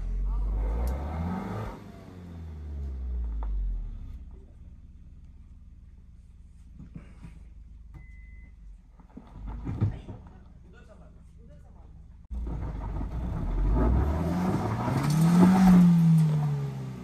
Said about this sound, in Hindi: गाड़ी फंस गई है एक।